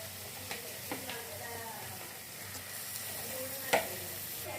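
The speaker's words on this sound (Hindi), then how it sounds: "5 मिनट हम चिकन को अच्छे से फ्राई कर लेंगे।" Chicken with garlic and ginger frying alongside bitter gourd in a pan, a steady soft sizzle throughout with occasional scraping stirs and small clicks, no talking.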